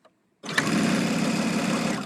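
A sewing machine starts up and runs fast, stitching a fabric basket made from fat quarters, a steady, close, loud whirring drone with rapid needle chatter after a brief silence.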